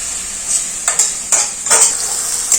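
Onion and tomato frying in a pan, a steady high sizzle with several brief scraping stirs spaced through it, close and fairly loud, with no talk.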